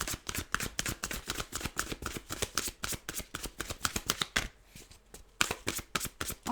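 A deck of tarot cards being shuffled over and over, close and crisp, the riffles falling in a steady, busy rhythm with a brief lull partway through, and no talking.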